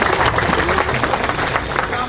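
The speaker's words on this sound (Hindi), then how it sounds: "तालियां बजाकर इस करोड़ी की पवित्र धरती पर स्वागत और अभिनंदन करिए।" An audience claps steadily to welcome guests at a ceremony honouring war heroines and mothers in Karodi, a dense continuous wash of hand claps over crowd murmur.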